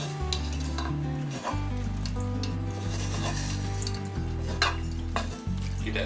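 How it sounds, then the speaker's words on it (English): Ham, chives and quiche ingredients stirred in a hot pan, steady sizzling frying with the scrape and clatter of a utensil against the pan, close and continuous without talk. "Give it a nice mix up,"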